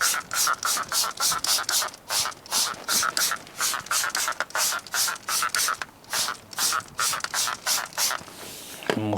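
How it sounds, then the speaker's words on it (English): Armour Detail Supply wheel cleaner is sprayed onto half of a car wheel from a trigger bottle, giving around two dozen quick, evenly paced hissing squirts, loud and close, with no talking. "So we'll spray sort of this half of the wheel with the Armour Detail Supply."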